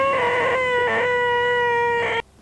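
A voice imitates the annoying whine of a faulty car fuel pump in a custom Mk2 Escort, a loud nasal drone held for about two seconds with wavering pulses, then cut off abruptly.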